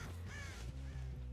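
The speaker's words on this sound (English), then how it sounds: "There's a crow there still" A crow caws in the video game Dead by Daylight, a few harsh, clear calls in quick succession, close and alone.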